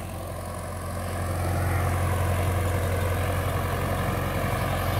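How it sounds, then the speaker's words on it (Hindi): A Shaktiman 55 hp tractor on 16.9-28 tyres pulls an 8 ft rotavator deep through a field. A steady, loud diesel drone grows slightly stronger after the first second and then holds even, with no voices. "ट्रैक्टर बिल्कुल भी लोड नहीं मान रहा है"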